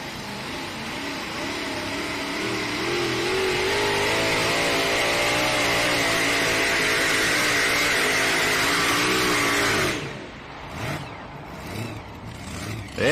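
A pulling truck at a truck and tractor pull in Lufkin, Texas, roaring loud and sustained at high revs for about ten seconds with the pitch climbing, then cutting off abruptly into quieter crowd and arena sounds.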